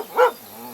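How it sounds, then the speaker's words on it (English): A dog gives one short, loud bark close by, then the sound falls back to near quiet. "They can bark and let you know when someone's there that shouldn't be."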